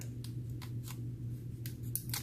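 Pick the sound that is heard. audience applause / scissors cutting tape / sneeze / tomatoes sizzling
scissors cutting tape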